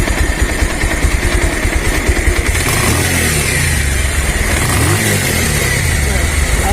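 A Bajaj Pulsar 150 motorcycle with a valve leak stalling its revs runs loudly up close, its engine throbbing and revving unevenly, while someone talks over it.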